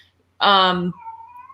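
A pet cat lets out one loud, close, drawn-out meow, followed by a faint trailing tone.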